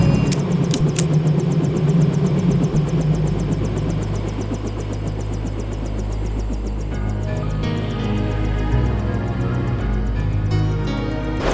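Helicopter engine in Deus Ex: a steady, loud mechanical drone with rhythmic rotor pulsing and constant low rumble throughout, no talk.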